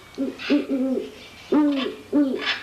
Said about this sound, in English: the deep bellowing hoot of the great horned owl